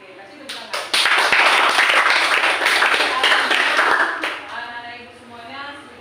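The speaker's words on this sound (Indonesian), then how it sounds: "Oke, kasih tepuk tangan." Students in a floor gymnastics class clap together for several seconds, a burst of many hands that starts sharply, holds, then fades, with a teacher's voice faintly around it.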